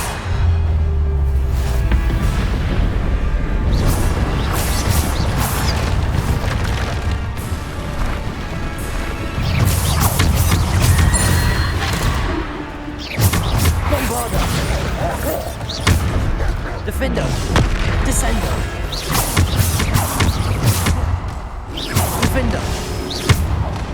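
Bombarda spell explosions in Hogwarts Legacy during a trial: a string of heavy booms and crashes with whooshes between them, loud and near, with a voice calling out over the din.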